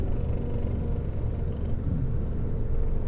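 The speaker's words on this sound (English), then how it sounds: "there's a lot of vibration from the rear tyres" A Toyota Supra on the road with heavy vibration from the rear tyres, heard as a steady low drone and rumble from inside the car for about three seconds, loud and constant with no talking.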